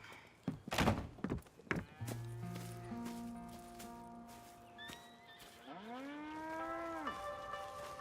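Cows on a video game farm moo in long, low, drawn-out calls one after another, preceded by a few hollow thunks and clatter, fairly quiet overall.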